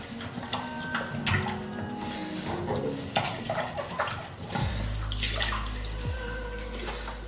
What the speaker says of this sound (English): As you've got the water running in it